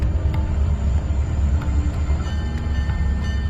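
CN train 413, a freight train just under 2 kilometres long carrying grain, metal pipes and chemicals, rolls along the track with a deep continuous rumble and a steady wheel-on-rail roar, loud and close, with faint clanks scattered through it.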